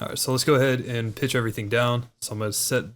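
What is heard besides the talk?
No everyday noises stand out.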